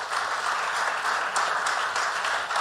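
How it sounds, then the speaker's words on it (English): An audience at a Waterford celebration event applauds Professor Willie Donnelly, a dense, steady wash of many hands clapping together, sustained without pause. "Big round of applause for Willie."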